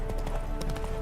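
Horse hooves clip-clop at a steady trot in The Witcher 3 video game, a rapid even rhythm of muffled beats over a dense, continuous game soundscape.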